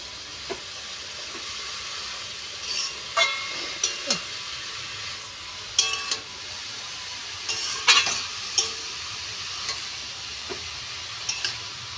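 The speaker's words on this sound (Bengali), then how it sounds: "এখন বাঁধাকপি বসিয়েছি, মাছের মুড়ো দিয়ে করবো।" Cabbage cooking with a fish head in a pan gives a steady soft sizzle, broken by scattered clinks and scrapes of stirring.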